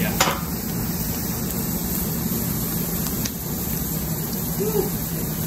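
A Reuben sandwich sizzles steadily in a frying pan after being flipped, with a continuous frying hiss and a couple of brief clinks near the start.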